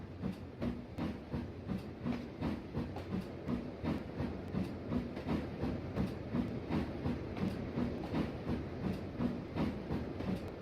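A steam-era railway train runs steadily along the main line, its wheels beating a regular clickety-clack rhythm over the rails with a soft hiss underneath, moderately distant and continuous throughout.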